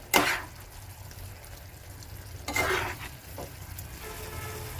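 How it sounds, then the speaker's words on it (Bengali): Mushroom masala with cumin powder and spices being stirred in a pan on a gas flame, a quiet sizzle beneath a few sharp scraping strokes of the spoon against the pan. "এবার এগুলো সব একত্র করে নাড়াচাড়া করবো"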